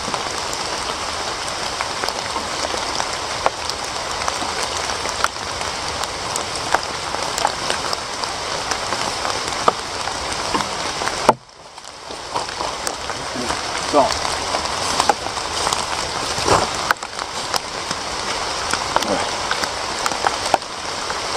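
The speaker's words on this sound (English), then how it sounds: "So the rain kind of let up a little bit, still sprinkling" Light rain sprinkles steadily outdoors on leaves and leaf litter in woodland, a dense, even patter close around, with a short dip partway through; a voice briefly speaks over it.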